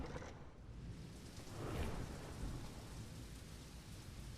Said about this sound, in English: And it's raining, just like it is outside